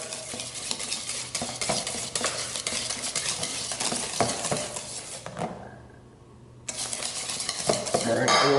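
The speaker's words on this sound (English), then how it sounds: "I'll keep whisking that." Eggs are whisked for blueberry muffin batter, a brisk, rapid scraping and clinking of a whisk against a bowl that runs steadily, pauses briefly near the end, then resumes at close range with no talking.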